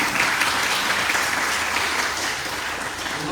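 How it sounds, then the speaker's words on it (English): An audience at a temple gathering of kirtan and talks in Guyana claps together in dense, sustained applause, loud and continuous throughout with no speech on top. "I want to hear some sound of clapping for those Matajis who cook for us."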